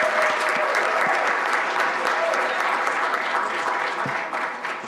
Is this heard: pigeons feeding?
no